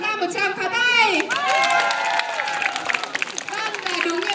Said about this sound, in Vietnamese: hãy cho tất cả chúng ta một tràng pháo tay